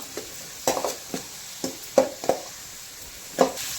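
Finely chopped onions for chole frying in a pan: a soft, steady sizzle broken by about eight sharp scrapes and taps of a spatula, close and fairly loud.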